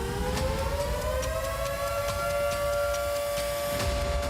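An air raid siren wails over Kyiv with a steady sustained tone that rises slightly in pitch. It sounds distant, carried over low background rumble.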